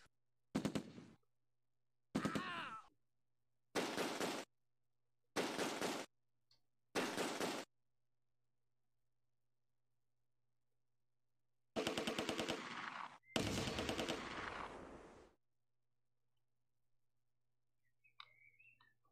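Gunfire from the video game Close Combat 2 comes in five short, sharp bursts spaced evenly apart, followed after a pause by two longer, louder volleys close together, then near silence.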